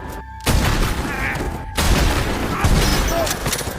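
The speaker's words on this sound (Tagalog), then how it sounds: "biglang sumulpot si Dongyuk at pinagbabaril ang Big Boss at mga tauhan nito" A movie shootout with bursts of gunfire, loud and dense, in two or three broad volleys with short gaps between them.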